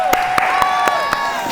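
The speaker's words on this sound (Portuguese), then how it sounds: "uma salva de palmas pra Nath" A small group claps for a guest in a round of applause, with a few sharp, regularly spaced claps standing out over a ringing tonal background.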